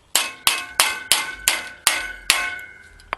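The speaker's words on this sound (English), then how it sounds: "So I will take the second bolt and I will hammer it in." A bolt is hammered into the knife of a sickle bar mower: seven sharp metallic strikes land at a steady pace, each ringing briefly, close and loud.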